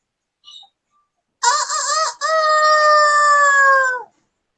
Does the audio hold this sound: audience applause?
no